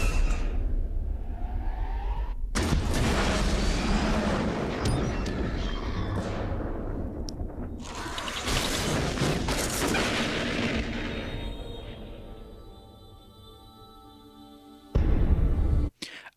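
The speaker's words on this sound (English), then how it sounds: "The explosion looks really cool." Fuel pod explosions in a Star Wars film scene: heavy, sustained roaring blasts and booms with whooshing debris, loud and continuous, thinning out toward the end before one final sudden burst.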